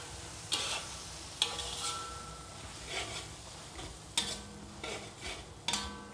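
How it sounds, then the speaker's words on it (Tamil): A spatula scrapes and stirs food in a frying pan during preparation of bihun goreng, with several distinct sharp scraping strokes over a soft, continuous sizzle. "சேர்த்து நல்லா கிண்டிக்கலாம் ஃப்ரெண்ட்ஸ்."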